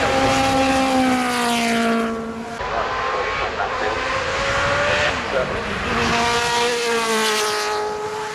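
Loud race car engines roar past at the Goodwood Festival of Speed hillclimb with rising and falling pitch, a strong droning whine dominating, while a commentator talks underneath.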